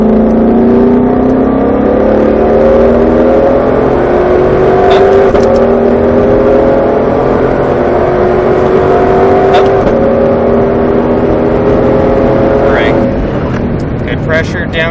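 A Ford Shelby GT500 engine rises and falls under throttle on a racetrack, loud and close, with rising revs, downshifts and a coasting drop while a driving coach talks over it.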